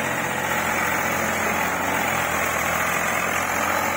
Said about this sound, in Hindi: अब देखे चढ़ाई पर चढ़ा ट्रैक्टर